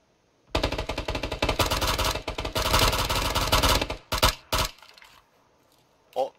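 Automatic gunfire in the shooter game PUBG bursts out loud and close as one long rapid rattle of shots, followed by two short bursts and a final brief volley after a pause.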